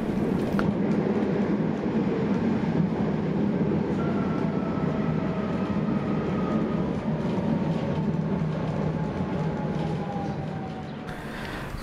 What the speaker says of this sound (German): Die Straßenbahn verkehrt von hier an zunächst am linken Straßenrand.